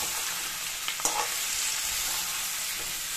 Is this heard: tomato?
yes